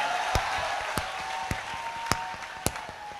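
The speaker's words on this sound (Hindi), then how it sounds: "और पढ़ें, ताली बजाइए, एनर्जी मिलती है" An audience at a Hindi political speech claps in a slow, steady rhythm, five sharp claps spaced about half a second apart over a low hum of crowd noise.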